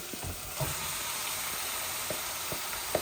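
Chicken pieces tipped into hot oil with half-cooked onions, producing a steady close sizzle with a few sharp spatters and clinks across the three seconds, moderately quiet and free of talk.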